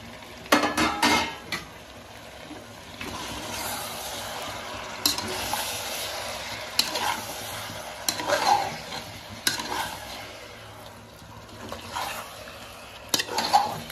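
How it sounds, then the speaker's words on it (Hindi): Tomatoes tossed into chicken sizzling in a pan, with steady frying hiss and a spoon scraping and clinking against the metal as it is stirred, close up with no voices. "साथ में डालेंगे टमाटर"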